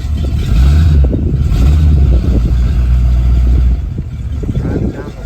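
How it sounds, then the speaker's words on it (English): A Chevrolet Malibu Landau G-body car accelerates and drives by with a deep rising engine drone, loud and close, easing off near the end. "Driving down the road, turn around, that was it."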